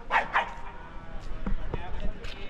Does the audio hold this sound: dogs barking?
yes